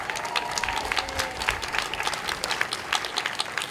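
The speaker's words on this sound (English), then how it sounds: "Let's do one more round of applause for Diane." Outdoor applause from a peace rally crowd in New York City, a continuous spread of many hands clapping with individual claps audible, fairly close and steady, with a few faint voices mixed in.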